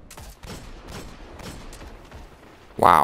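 Gunfire in the Destiny Iron Banner video game: repeated short bursts of shots at a steady pace, ending in a sudden louder blast, with no talking.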